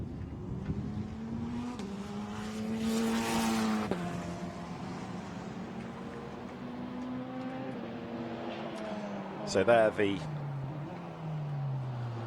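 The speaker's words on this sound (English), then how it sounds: "car of Adrien David turns through La Source" A Formula Renault Eurocup race car runs through La Source hairpin at Spa-Francorchamps during qualifying, its engine note slowing and then rising as it accelerates away, loud and steady under continuous commentary.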